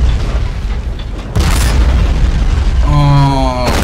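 A tank shell exploding in the video game Men of War: Assault Squad 2, a sudden loud boom with a sustained rumbling roar that stays heavy to the end, with tonal sounds rising at the close.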